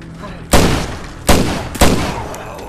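Three loud, booming gunshots in the zombie survival game State of Decay, spaced irregularly about a second apart, each with a decaying tail, over a quieter game background.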